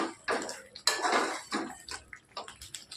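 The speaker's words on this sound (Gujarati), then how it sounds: "હવે આપણે કાજુ એડ કરીએ. મિક્સ કરીએ." Cashews get stirred into a simmering garlic gravy in a cooking pan, with a spoon scraping and clinking against the metal in short, irregular bursts close by.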